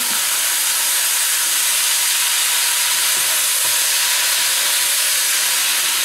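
Beef pieces browning in a pot with onions and lardons for a Provençal daube, a loud steady close sizzle and hiss throughout with occasional soft knocks from stirring.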